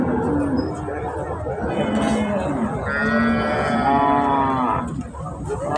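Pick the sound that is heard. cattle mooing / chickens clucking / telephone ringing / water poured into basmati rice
cattle mooing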